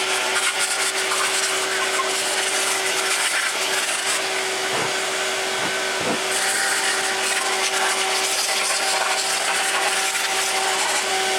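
Shop vacuum running steadily on a cylinder head stripped for prep and painting, a continuous even whine with a few brief dips as the nozzle moves over the metal, alone and without talk.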